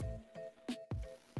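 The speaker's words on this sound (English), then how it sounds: "I dipped my mesh scouring pad in a bowl of purple paint" A mesh scouring pad dipped into a craft bowl of purple paint gives repeated soft wet squishes and dabs, about five in quick, uneven succession, close and fairly quiet, with no speech.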